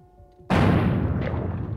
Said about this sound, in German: Ich schieße auf ihn.